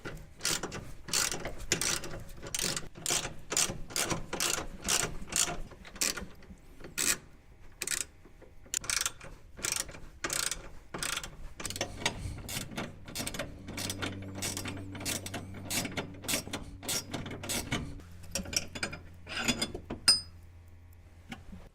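Ratchet wrench removing 14mm bolts from a Mule differential mount plate, a quick, dense run of close metallic clicks in bursts, with a lower grinding hum in the latter part.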